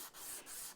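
Steady abrasive rubbing of a sanding board scraping back and forth across a Washburn acoustic guitar during setup, close up, with brief dips between strokes.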